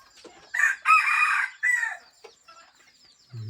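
A rooster crows outdoors on a farm where animals are let out to graze, a loud drawn-out cock-a-doodle-doo with a second shorter call, followed by faint clucks and a low thump.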